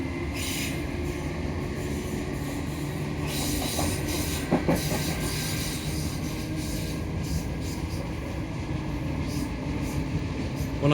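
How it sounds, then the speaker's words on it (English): Steady rumble and rattle inside a former Class 508 trailer carriage on a South Western Railway suburban train near London, with continuous wheel noise, faint clicks and occasional squeals throughout. "So this is a former Class 508 trailer standard open 71531."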